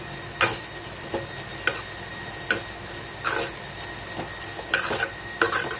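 Tomatoes sauté in oil for dal khichdi, a quiet sizzle running under repeated sharp clicks and scrapes of a spoon stirring against the pan, spaced irregularly, with no talk.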